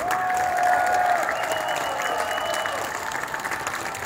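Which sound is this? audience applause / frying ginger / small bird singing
audience applause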